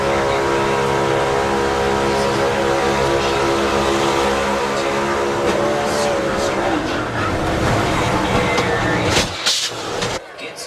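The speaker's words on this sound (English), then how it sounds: "This is on board with Barry" Onboard a NASCAR race car at Daytona in 2024, a loud, steady engine roar drones close up, then breaks into sharp crashing bursts and scraping noise near the end as the car wrecks and flips.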